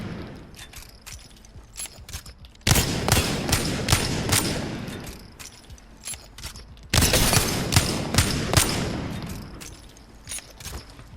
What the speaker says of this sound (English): So every time I go right is when I'm firing.